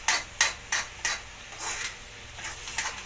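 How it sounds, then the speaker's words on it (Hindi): A spoon scrapes and knocks against a pan while sugar is stirred into wheat flour halwa, a series of regular scraping strokes with light metallic clinks, close up and without speech. "अब इसको धीरे धीरे से चलाते रहेंगे जब तक चीनी इसमें मिक्स ना हो अच्छे से।"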